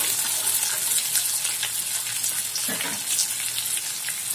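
Peas frying in mustard oil for matar paneer give a steady, dense hiss and sizzle, close and fairly loud, with no talking.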